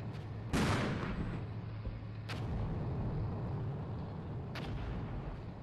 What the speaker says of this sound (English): As the rockets are coming in.